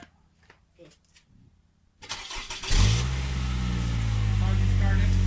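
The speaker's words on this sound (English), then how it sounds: "Car just started." A used car's engine cranks and catches, then settles into a loud, steady idle close by after a couple of seconds of quiet handling noises.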